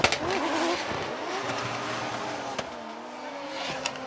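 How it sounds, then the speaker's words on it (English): Drift cars at a Formula Drift Japan event chase in tandem at a distance, engines revving and whining with tire squeal, under a continuous crowd and commentary wash. "Lead and Nakamura is giving chase."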